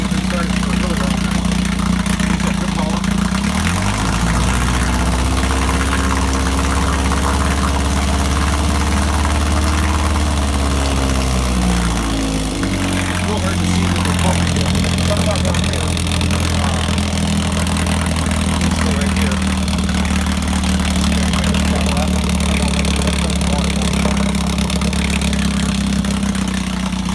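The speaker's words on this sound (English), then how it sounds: "This motor hadn't been started in about 3 days, so that was a cold start, first pull." A 1961 Evinrude 3 hp outboard motor runs after a cold first-pull start, a steady droning idle throughout with a pitch dip and recovery partway through, loud and close.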